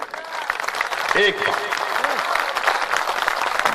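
Audience applause at a Hindi veer ras kavi sammelan poetry gathering, a steady wash of clapping from a large crowd that continues throughout while a voice speaks over it.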